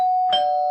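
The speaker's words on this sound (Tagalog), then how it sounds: "So, buong inakala ko na doorbell talaga yun at inisip ko na ganito yun kapag gumagana." A doorbell in an animation gives a single brief electronic ding-dong, a clean sustained tone with a short second chime, heard alone and clearly.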